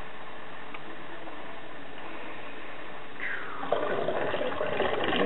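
Boysenberry juice poured from a boiling pot during wine brewing, a low quiet bubbling that turns into a louder splashing, gurgling pour during the last second and a half.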